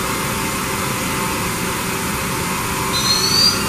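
Spindle of a Mori Seiki NT6600 DCG 6000B machine tool running at 6500 RPM, giving a steady mechanical hum with a faint high whine that rises slightly near the end.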